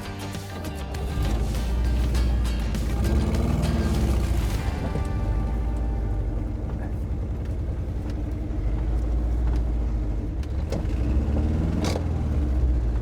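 An old Fiat 125 engine, run after years sitting, rumbles steadily and close by as the car drives, with a rough low drone and occasional rattles throughout.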